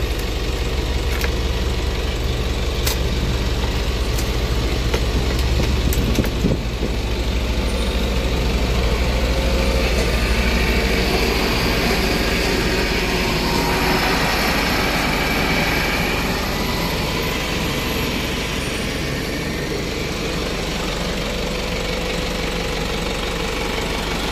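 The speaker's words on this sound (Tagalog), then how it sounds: "Kung napapansin nyo po ay umaandar kasalukuyan yung makina." A vehicle engine that will not shut off with the key keeps running, a loud continuous low rumble and hum with slight knocking, heard close and steady for the whole stretch.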